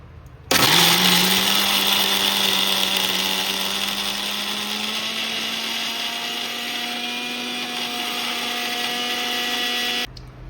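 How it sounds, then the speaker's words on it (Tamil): A kitchen mixer grinder whirs loudly and steadily for about ten seconds as it grinds soaked chana dal and toor dal with coconut, cumin, asafoetida and green and dried chillies, starting and stopping abruptly. "ஊற வச்ச கடலைப்பருப்பு, துவரம் பருப்பு, தேங்காய், ஜீரகம், பெருங்காயத்தூள், பச்சை மிளகா, காஞ்ச மிளகா எல்லாம் போட்டுருக்குறேன். இதை அரைச்சிக்கிறேன்ப்பா."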